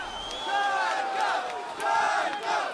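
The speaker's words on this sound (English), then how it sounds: "The pro-Russian crowd cheers as Ukrainian government supporters are literally thrown out of the building" A pro-Russian crowd at a rally in Kharkiv, eastern Ukraine, roars and cheers in rising, overlapping waves of shouting voices, loud and sustained throughout.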